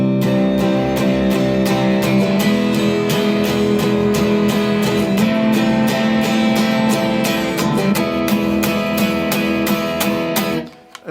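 A distorted electric guitar plays the riff from a song alone, loud and repetitive with steady strummed attacks, then cuts off abruptly near the end.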